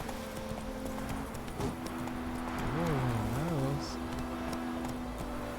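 Horse hooves from The Witcher III clip-clop in a steady, close rhythm throughout, with a brief voice or whinny-like tone rising partway through.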